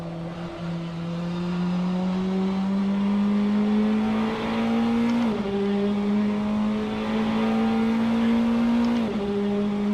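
Race cars on soft tires lap a track at a speed night, engines droning loud and close with steady rising pitch, two brief gear-change dips around the middle and near the end, no talking.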